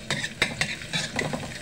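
Garlic hitting hot palm oil with a few sharp spatula strokes against the pan, a brief close sizzle with scraping accents and no talk.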